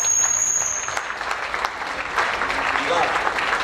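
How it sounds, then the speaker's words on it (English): An audience at a summit claps for themselves during a chairman's speech, a moderately loud wash of steady applause in a large hall, with a faint high tone lingering early on. "It's time to clap for yourself."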